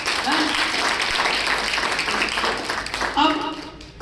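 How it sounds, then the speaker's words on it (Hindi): Schoolchildren at a road safety month session clap together in a steady burst of applause, with a voice speaking briefly near the end. "तो जरा ताली बजाओ एक बार यार।"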